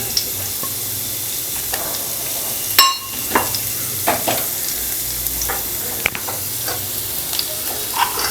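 Three or four cloves of finely chopped garlic frying in a pan, a steady sizzle with scattered scraping clicks from stirring and one sharper clatter.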